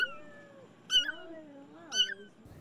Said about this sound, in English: That meow got the attention of just about everyone on this quiet Staten Island block.